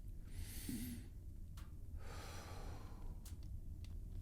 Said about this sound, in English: That simple breathing motion, breathing in